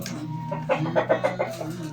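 Bresse Gauloise, Australorp and Rhode Island Red chickens clucking close by in a short run of rhythmic calls over a low steady hum.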